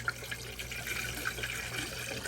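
Windshield washer fluid pouring steadily into the reservoir of a Subaru Impreza, a soft continuous liquid trickle with faint gurgles and small splashes, close and quiet.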